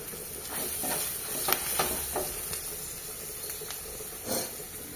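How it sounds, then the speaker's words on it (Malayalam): Spice powders sautéed in a pan while making fish pickle, a steady soft sizzle and hiss with scattered scraping stir strokes, close and moderately quiet, no voices. "നമ്മുടെ പൊടിയൊന്നും കരിഞ്ഞു പോവാതെ നമുക്ക് പെട്ടെന്ന് വഴറ്റി എടുക്കണം."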